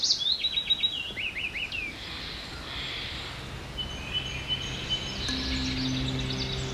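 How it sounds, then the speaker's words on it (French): Birds chirp and trill in quick bursts over a dense, steady wash of Indonesian jungle ambience, with faint insect hum underneath. "Les oiseaux semblent se rapprocher, car oui, vous venez d'entrer dans la jungle indonésienne."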